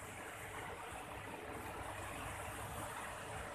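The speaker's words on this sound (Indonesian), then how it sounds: "Ini kita melihat suasana sungai" A river at a sand collection site near a beach bathing area in Deli Serdang gives off a steady, even wash of flowing water, a broad continuous rush with no breaks or voices.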